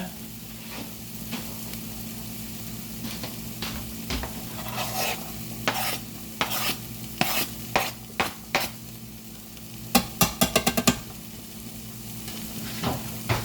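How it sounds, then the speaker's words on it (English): Minced garlic, about four or five cloves, stirred into a hot sizzling pan for chicken spaghetti: a steady low frying hiss under repeated scraping strokes of a utensil, with a quick burst of rapid stirring scrapes near the end. "I'll go ahead and stir that in and cook it for just about a minute or so"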